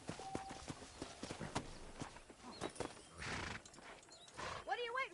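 A horse in the Red Dead Redemption video game, with clopping hooves and a whinny near the end, mixed with game dialogue and someone talking over it.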